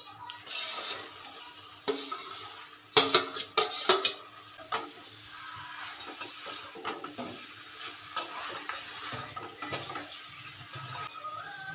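Fried mushrooms are tipped into a pan of sauce and stirred, giving bursts of clattering and scraping over a soft sizzle, busiest early on and quieter later, heard close with no talking.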